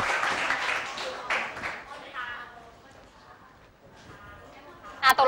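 Students in a chemistry classroom break into a short burst of clapping that quickly fades, and a teacher keeps talking over and after it, followed by a sharp knock near the end.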